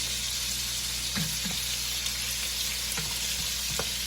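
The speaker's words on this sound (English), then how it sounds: "At this point, as they cook, you notice I'm turning them, because I want to make sure they're fully cooked" Chicken sizzles and fries in a hot pan, a loud, constant close-up hiss broken by a few soft knocks and scrapes as the pieces are turned, with no speech.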